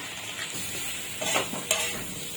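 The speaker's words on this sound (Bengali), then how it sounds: "আলু আর পেঁপেটা একটু ভেজে নিচ্ছি।" Potato and papaya pieces fry with turmeric in a pan, giving a soft, steady sizzle broken by a few brief scraping stirs.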